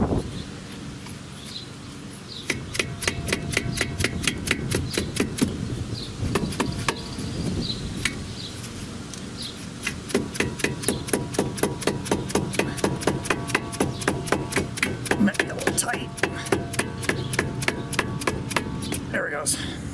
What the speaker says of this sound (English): Do a little persuasion with my dead blow.